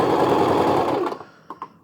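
Sewing machine stitching fabric up close, a fast continuous mechanical whir that stops after about a second, followed by a couple of faint clicks.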